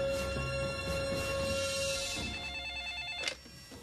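A telephone rings with a steady electronic trill that repeats through the whole stretch, fairly faint and with no voices over it.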